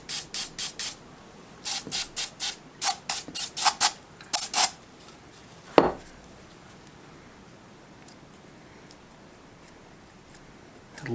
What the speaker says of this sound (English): let me spray these springs down really well